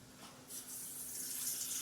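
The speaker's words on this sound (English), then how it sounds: "I'm going to measure out about a cup of water" Filtered water poured from a tap-like stream into a measuring cup, a steady close rush of running liquid that swells and brightens after a brief softer start and continues to the end.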